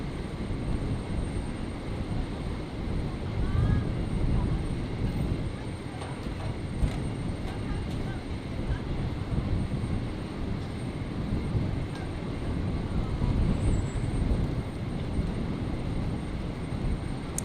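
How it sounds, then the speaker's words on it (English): An Emirates airliner taxis and turns toward gate 73 at Brisbane Airport on a stormy night, a steady broad engine rumble with no talk over it. "So the Emirates just going to be turning around there and then pulling into gate 73."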